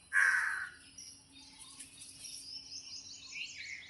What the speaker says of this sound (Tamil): எத்தனை காக்கா இருக்குன்னு கவுண்ட் பண்ணு.